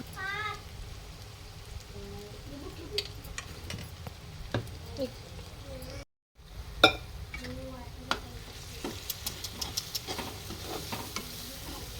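Chicken sautéing in oil with turmeric and homemade masala, a soft steady sizzle with occasional spoon scrapes and clicks, fairly quiet and close, briefly cut out midway.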